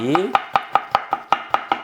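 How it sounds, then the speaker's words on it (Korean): Thin slices cut from a cucumber with a kitchen knife, eight close, crisp chops in an even rhythm, just after a brief voice at the start. "그러면 뭐 오이를 잘라볼게요"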